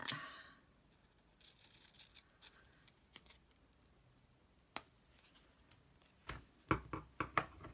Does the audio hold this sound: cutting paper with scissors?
yes